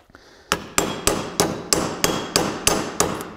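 A body hammer strikes sheet metal on a hard anvil eight times in a steady rhythm, each ringing blow sharp and close with a short metallic decay.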